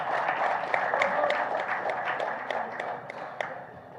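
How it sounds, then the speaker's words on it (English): Audience at an automobile dealers' association event with a Tamil Nadu minister gives a round of applause, a dense, even wash of clapping from a hall full of people, with no voices over it. "Can we have a huge round of applause,"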